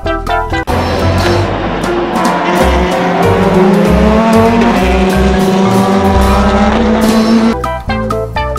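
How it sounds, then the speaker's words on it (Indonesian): A race car engine roars loudly and steadily throughout, its pitch climbing and wavering, while tires squeal over it and the engine sound cuts off abruptly near the end. "Dan yang ini, mobil balap."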